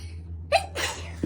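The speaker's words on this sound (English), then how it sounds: "Oh, I have to sneeze." One person sneezes close to the microphone, a sharp single burst preceded by a quick intake of breath, with a faint gasp trailing after in an otherwise quiet room.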